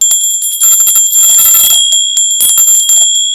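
An Indian bell rings loud and bright, struck several times in quick succession with a long sustained metallic tone that keeps sounding between strikes.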